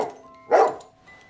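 A dog barks once, a single loud close bark after a brief pause, with a faint quieter bark or whimper earlier in the clip.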